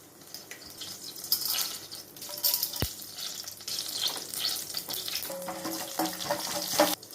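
Mustard seeds with chana dal and urad dal tempering in hot oil in a home kitchen, giving a steady crackling sizzle with sharp pops, sharpest in the last seconds; no talking.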